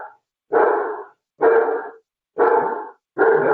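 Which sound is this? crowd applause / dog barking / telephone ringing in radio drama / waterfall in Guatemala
dog barking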